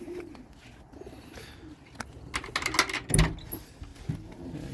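Racing pigeons at a loft during a young-bird race coo softly and near, mixed with wing flutters and light pattering, with no voices.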